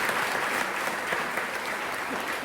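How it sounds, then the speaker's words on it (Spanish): Steady, dense audience applause at an international missions congress welcoming a guest pastor, filling the whole stretch evenly. "Yo quiero que le demos un aplauso a Dios"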